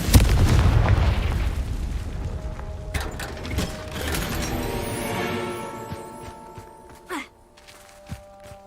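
A Confringo blasting spell goes off in Hogwarts Legacy with a loud boom at the start, then fades into mechanical rattling and ratcheting, with a few softer thuds trailing away.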